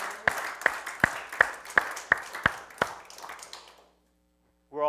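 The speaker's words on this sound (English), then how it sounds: "Give the Lord a hand clap." A congregation at Abundant Life Community Church claps in unison, about eight crisp, evenly spaced claps in a steady rhythm. They trail off into near silence before a brief new sound begins at the very end.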